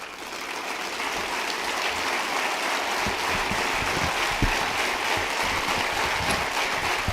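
A university audience on its feet clapping for soldiers, a dense sustained roar of applause that swells slightly and holds steady, with a few nearer claps, no talk.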